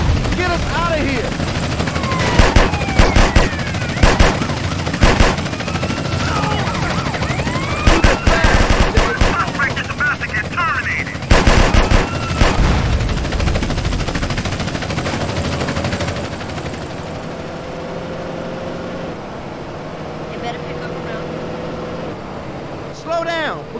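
Automatic gunfire rings out in repeated loud bursts during a drive-by in the video game GTA San Andreas, over a running car engine and voices talking, then dies down toward the end as the engine goes on.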